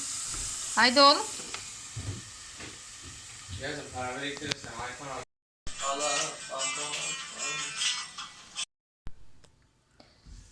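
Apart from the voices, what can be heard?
potatoes frying in oil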